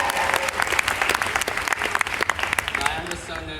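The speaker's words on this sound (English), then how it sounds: "Give him a round of applause for being the first question." Steady audience applause at a fan convention panel, dense clapping throughout with a few voices underneath.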